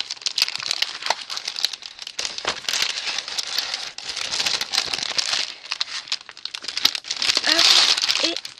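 Pieces of a cross stitch kit are packed back into crinkly plastic packaging, giving near, continuous crumpling and crackling for several seconds with brief pauses, and a voice speaks over it.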